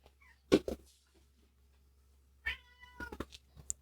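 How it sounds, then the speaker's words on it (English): A house cat meows indoors, one short meow early, then a longer cluster of meows and chirps after a pause, close and clear against quiet. "most of my editing time goes towards editing out my cat meowing at me"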